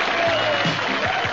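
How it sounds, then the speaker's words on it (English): An audience applauding and cheering for a band, a dense, steady wash of clapping heard up close and filling the whole brief moment. "Stop cheering."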